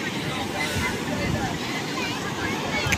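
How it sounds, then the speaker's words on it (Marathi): Sea waves break and wash up on the beach at Ganpatipule: a steady roar of surf and wind rushing against the microphone, with faint voices in the background. "हे बघा आता लाटा आल्या"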